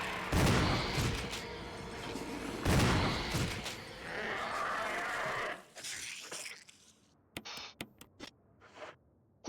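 Gunshots in Resident Evil, a few loud booming blasts with long decays over a dense, noisy game soundscape, then quieter sharp clicks and short bursts as the action thins out.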